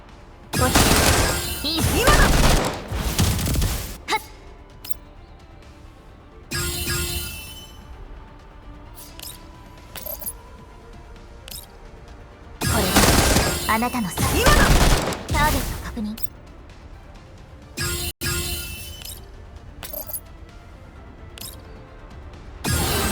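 Bursts of rapid automatic gunfire in the video game Girls' Frontline 2 as the character Vector shoots a boss, several loud volleys separated by quieter gaps, with a few single sharp shots in between.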